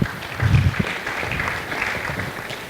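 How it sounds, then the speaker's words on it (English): An audience at a corporate send-off ceremony gives a round of applause, a soft, steady patter of many hands clapping at a moderate distance that holds for the full few seconds. "let's give him a round of applause"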